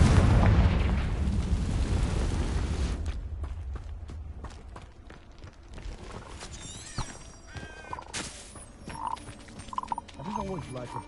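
A Confringo spell explodes in Hogwarts Legacy combat, a loud booming blast that rumbles for about three seconds, then fades into scattered crackles, clatter and short musical tones.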